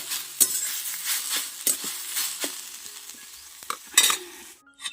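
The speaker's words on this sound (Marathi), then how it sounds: "कांदा चांगला लाल होऊ दे" Onions frying in a pan until browned, a soft continuous sizzle broken by sharp scrapes and clinks as they are stirred, close and fairly quiet with no talking.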